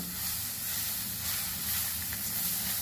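Carrots fry in a covered pan, giving a steady, soft, continuous sizzle and hiss with no break, fairly quiet and close.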